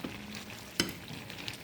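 Turon, banana spring rolls made with Indian bananas, frying in a pan over lowered heat, with a steady low sizzle and a sharp clatter of stirring partway through, no talking.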